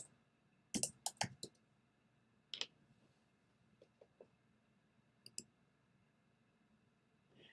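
Short, quiet bursts of clicking keys on a computer keyboard, a few sparse clusters of taps separated by silence, close and faint with no talk.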